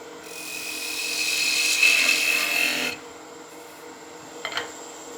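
A skew chisel takes a long point cut downhill on a spinning top turning on a wood lathe, giving a steady, close scraping hiss for about three seconds before stopping, followed by a brief faint knock.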